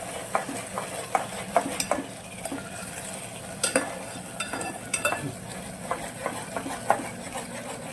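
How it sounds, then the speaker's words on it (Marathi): A spoon stirs tomato puree into masala frying in oil for mutton biryani, irregular scraping knocks against the pot over a soft sizzle, close by and without speech. "आता टोमॅटोची प्युरी टाकून मिक्स करून घ्यायचं."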